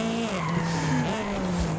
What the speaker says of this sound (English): Is that inertia drifting?